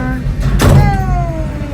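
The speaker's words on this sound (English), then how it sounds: "There goes the door." The door of a Gateway Arch tram car slides open in one short mechanical rush over a low motor hum, followed by a faint descending whine.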